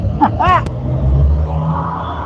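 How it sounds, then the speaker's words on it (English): A truck driving by on the road in the evening, a steady low rumble that swells and lingers near, with a brief voice at the start. "How bad was that truck that went by?"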